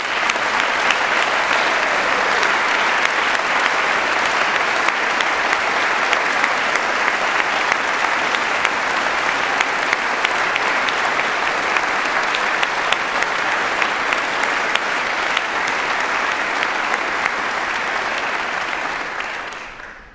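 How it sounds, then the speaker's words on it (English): A large crowd at a university congregation for postgraduate graduates gives a long, loud, sustained round of applause for students and honorands, dense clapping that holds steady for about twenty seconds before cutting off. "one final massive, massive round of applause to all of our students and all of our honorands"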